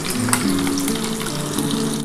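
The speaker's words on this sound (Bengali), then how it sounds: "তারপরে এই তেলের মধ্যে যে কটা দেখো বন্ধুরা মাছ আছে আমি ভেজে তুলে নেবো।" Fish frying in hot oil, a loud, close, continuous crackling sizzle lasting a couple of seconds.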